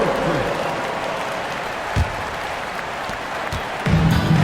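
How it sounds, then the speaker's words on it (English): A broad wash of crowd applause and cheering rolls on throughout in the basketball video game NBA 2K25, mixed with arena noise and a voice talking over it. "Give them a round of applause"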